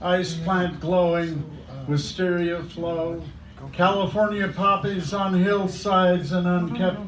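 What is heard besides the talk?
None of the usual background noises is heard.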